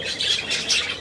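A pet bird gives several harsh, close squawks in quick succession, loud and alone, with no talking over it.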